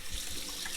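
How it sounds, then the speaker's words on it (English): Running tap water splashing over hands being washed in a kitchen sink, a brief, steady close-up trickle and spatter. "Let me wash my hands off."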